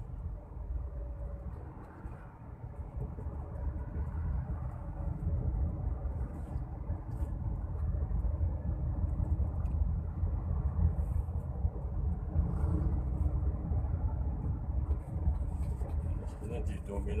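Street traffic in Kuala Simpang, Aceh Tamiang, mostly motorbikes, rumbles as a continuous low drone of passing engines on an uphill road, with a voice talking over it.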